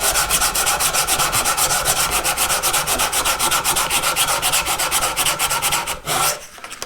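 Rapid, rhythmic sanding scrapes back and forth across the edges of a walnut charcuterie board, loud and close and steady for about six seconds before a brief pause and a final stroke.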